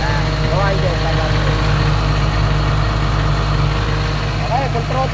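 A Komatsu PC200-8N1 excavator engine idles with a loud, steady low diesel rumble and hum, close up and unchanging, while a voice calls out faintly over it.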